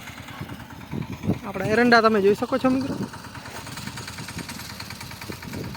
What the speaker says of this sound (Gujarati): આ ટ્રેક્ટર છે આપણે પ્રવીણભાઈ દલવાડીનું કેપ્ટન ટ્રેક્ટર છે